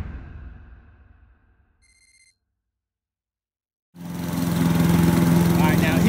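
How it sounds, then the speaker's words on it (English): A lawn mower scalping Bermuda grass low to the ground: after a fading hum and a brief silence, the engine comes in loud and close with a steady, strained roar. "now he's getting some resistance from the mower"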